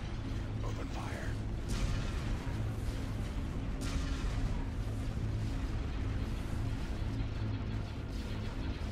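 Starship cannons open fire in the space strategy game Empire at War, a dense, continuous rumble of heavy booms and blasts with sharp bursts near two and four seconds, loud throughout with a steady low drone underneath.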